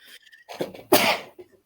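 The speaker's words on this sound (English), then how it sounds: "I'm sneezing halfway through." A single sharp sneeze bursts out after a quick inhale and a bit of speech, loud and close, followed by a faint trailing sound.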